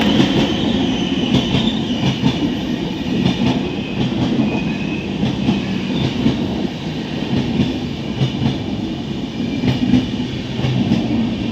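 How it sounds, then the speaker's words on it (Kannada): A passenger train rolls into a railway station, a loud continuous rumble with rhythmic clickety-clack of wheels over rail joints and occasional faint squeals, no voices heard. "ನಾವು ಹೋಗಿ ಸ್ವಲ್ಪ ಹೊತ್ತಿಗೆ ನಮ್ಮ ಟ್ರೈನ್ ಕೂಡ ಬಂತು"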